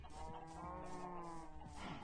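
Low, drawn-out Minecraft cow moos with a synthetic, game-like tone, several calls overlapping steadily through a short stretch of continuous sound.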